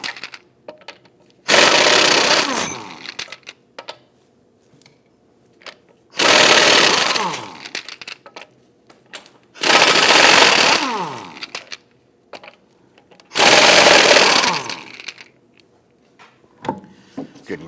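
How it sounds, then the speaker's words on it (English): Power tool fitted with a 19mm socket spinning off the rear lug studs on a Volvo XC60, four loud close bursts of whirring and rattling separated by quiet pauses with small clinks. "Using a 19mm socket, go ahead and loosen and remove the lug studs."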